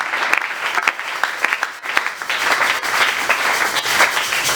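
A congregation at a church prayer service claps loudly, a dense, continuous applause of many hands with sharp individual claps standing out. There is no talking over it.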